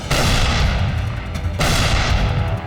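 A tank's main gun fires during a desert battle at El Alamein: two heavy, booming blasts a second and a half apart, each one loud and close, with a rumbling tail that fills the whole span.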